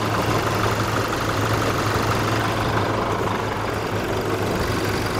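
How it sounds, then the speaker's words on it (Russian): A warmed-up Toyota Prado engine idles from outside the vehicle, a steady low rumble with a constant hum that stays loud and even throughout, with no voices. "Вот мотор выставился в рабочий режим, он прогретый"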